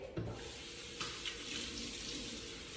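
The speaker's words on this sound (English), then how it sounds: "Warm water into that." Warm water runs steadily from a tap into a silver bowl for bread dough, a continuous close splashing stream with no talking.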